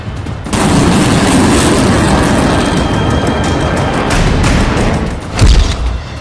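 Chinese missiles, including the DF-26 and hypersonic DF-17, fire alongside rocket artillery systems in a loud, continuous broadband roar that starts abruptly and swells into a heavier thump near the end.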